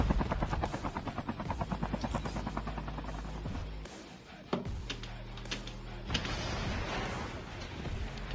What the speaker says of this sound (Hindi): तो यहाँ से मैं जोन में आता हूँ हेलीकॉप्टर से